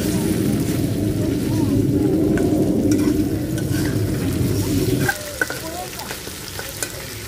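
Hilsa fish frying in a pan crackles in a loud, dense sizzle with stirring for several seconds, then drops abruptly to a quieter simmer with occasional clinks.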